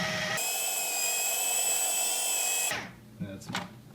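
A stand mixer whirs steadily on low while mixing beer cheese, with a constant loud, close motor whine that then cuts off, leaving a few clinks and handling noises.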